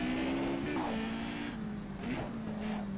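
Race car engine in a racing video game on a test track, a steady droning hum with small pitch shifts as the car accelerates and eases off, close and continuous.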